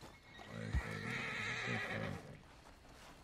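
A horse in the video game Red Dead Redemption 2 gives a long, loud, wavering neigh lasting most of the moment, with a sharp thud near the start and hooves audible underneath, no talking over it.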